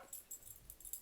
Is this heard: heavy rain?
no